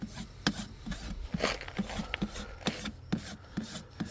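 A farrier's rasp filing a massive draft horse's hoof, with rhythmic close scraping strokes about twice a second, each stroke a coarse rasping rub, no voices.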